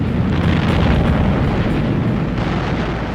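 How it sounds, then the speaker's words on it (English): Incendiary bombs explode across London in an air raid, a dense, loud, continuous rumbling roar of blasts with no clear breaks. "the Luftwaffe renews its attacks against London with incendiary bombs"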